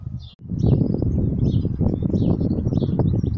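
Bright, twittering goldfinch calls repeat in short bursts above a constant low rumble and rustle of outdoor background noise.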